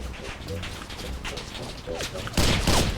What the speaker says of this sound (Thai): มันจะยิง มันจะยิง ข้างบนนั้นมันน่าจะเป็นแบบป้อมปืนมะ